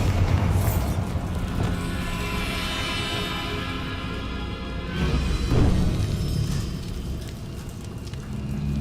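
Spell explosions from Confringo and Bombarda in Hogwarts Legacy, a dense, continuous roar of booming blasts and crackling fire with a heavy low rumble and a sharper burst midway, filling the whole stretch without talk.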